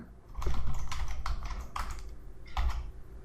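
A user ID typed on a computer keyboard for internet banking, a short run of close, quick key clicks in small clusters, with nothing else heard.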